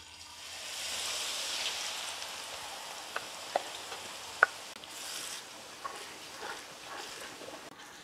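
Garlic, ginger and onion fry in bubbling oil in a wok, a soft close sizzle and froth swelling and fading, with a few sharp utensil clicks against the pan.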